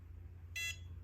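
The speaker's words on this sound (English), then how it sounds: "after the 6th time it looks like you will hear 2 long beeps" A single short, high electronic beep from a biometric gun safe sounds once over a low steady hum.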